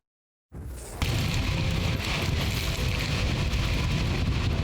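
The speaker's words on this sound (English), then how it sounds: "Catastrophic winds" Hurricane Melissa, the strongest storm ever to strike Jamaica's western coast with winds up to 297 km/h, roars as a loud, continuous wash of wind and heavy rain that bursts in after a brief silence and holds steady.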